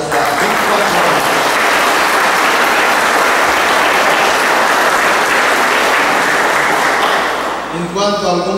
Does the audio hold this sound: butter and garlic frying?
no